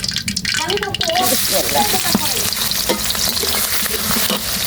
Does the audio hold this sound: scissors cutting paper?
no